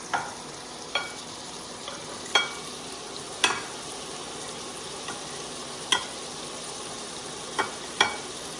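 Chili ingredients sauté in a pan with a low steady sizzle, broken by a handful of sharp clinks and scrapes from stirring spaced a second or so apart, with no voices.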